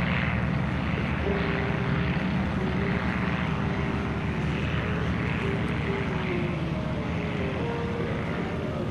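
A propeller airplane drones steadily overhead at a 2003 warbird airshow, its loud engine hum continuous throughout with no voices.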